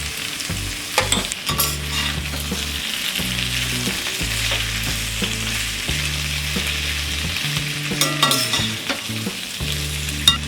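Potatoes with cumin and spices frying in a pan over a low flame, a steady close sizzle broken by repeated stirring scrapes throughout, with no voices.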